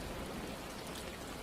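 Steady rain falls in an audio drama scene, a dense, even hiss of drops with no pauses, close and enveloping, with no voices.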